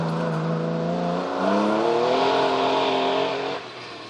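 A 3-litre Porsche rally car drives a slippery gravel stage, its engine loud and close as it revs and climbs in pitch through the gears before the note drops off near the end.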